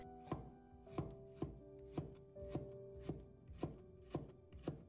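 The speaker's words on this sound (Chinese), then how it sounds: "再准备1块去了皮的生姜，先把它切片" Knife slicing a peeled piece of ginger on a chopping board, about ten crisp, evenly spaced chops close up with no voices.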